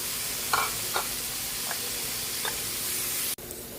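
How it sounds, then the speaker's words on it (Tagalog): Chopped chayote added to a pan of sizzling ground pork, with a steady loud hiss and sputter punctuated by several faint clinks and a sharp break near the end, no talk. "Lagyan na natin itong sayote."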